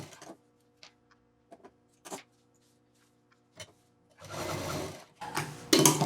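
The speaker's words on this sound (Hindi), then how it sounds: "तो अब इसको हम यहाँ पर सिल देंगे।" Short bursts of a sewing machine stitching fabric for a handmade sling bag, with a few quick clicks and then longer whirring runs of stitching near the end, in a quiet room.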